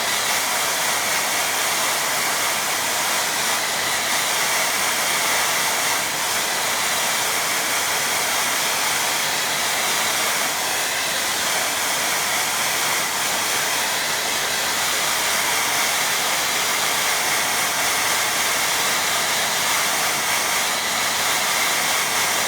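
A hair dryer blowing on a wet watercolour painting of a landscape, a loud, unbroken airy roar held close and steady for over twenty seconds with no talk.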